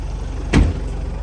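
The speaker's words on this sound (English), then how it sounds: "I'll lift up the seat so you guys can see the engine while it's running" A 1996 Toyota HiAce Super Custom turbo diesel 4WD idles with its engine under the seats, giving a steady low rumble. A single short clunk lands midway through.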